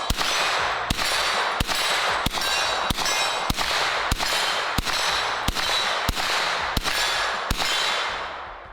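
Eleven sharp gunshots from a folding pistol-caliber carbine at a shooting range crack out in quick, evenly spaced succession, each loud and close with a bright ringing tail, and no one talks.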